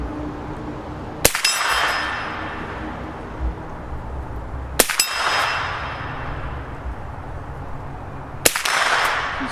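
Three sharp gunshots ring out spaced several seconds apart, each striking a swinging steel gong target with a bright metallic clang that decays slowly.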